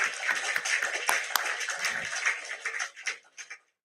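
A small crowd at a Biafra freedom rally claps, with quick, uneven hand claps that build briefly and then thin out into a few scattered claps before stopping.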